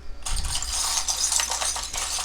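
Small metal charms being shuffled in the hands, a continuous bright jingling and clinking rattle, close and fairly loud, with no talk.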